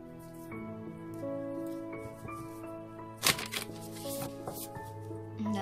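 Tarot cards being shuffled during a card reading, crisp riffling and slapping card sounds that come in short bursts over soft background music, one louder snap partway through.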